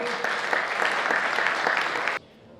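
A crowd at a Third Way party convention in Płock gives the local candidates' team a loud burst of steady applause that cuts off abruptly near the end.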